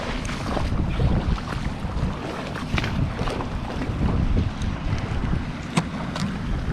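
Fast-moving water of a Wyoming trout stream rushes in a steady, close, broadband roar with wind buffeting the microphone throughout; no one speaks.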